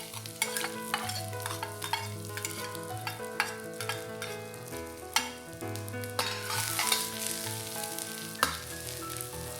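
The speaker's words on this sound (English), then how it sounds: "Stir fry all this for about a minute or so till they are fragrant." Minced garlic, white spring onion parts and dried chilies stir-fry in hot oil in a pan for Chinese shredded potatoes, a steady close sizzle broken by repeated spatula scrapes and tosses, with soft music underneath.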